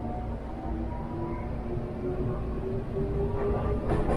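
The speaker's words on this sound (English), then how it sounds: "I'm on the train of Seibu line" Inside a Seibu line train riding through Tokyo, a steady rumble of wheels on track fills the cabin with a faint rising whine, heard from within the carriage and without any talk.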